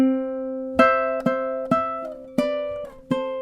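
Ukulele picks a slow, minor-leaning pattern of single plucked notes, five or six clear attacks ringing out and decaying in turn, close and alone.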